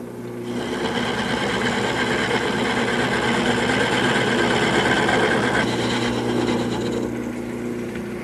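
A wood lathe spins a cylinder while a wide gouge cuts along it, giving a steady, continuous whirring drone with a rough cutting hiss that holds evenly for several seconds, close and alone.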